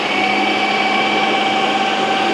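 A kitchen mixer grinder blending bhajiya chutney mix gives off a steady, loud motor whine with a constant pitch and no breaks, heard alone.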